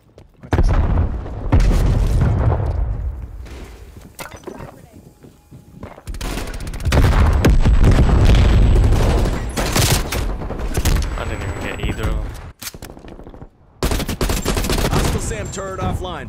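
Sentry turret gunfire in the video game Call of Duty: Cold War, with loud sustained bursts of rapid automatic fire and booming impacts that come in waves and drop out in brief gaps, with game voices in between.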